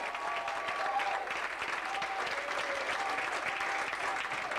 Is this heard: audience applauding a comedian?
yes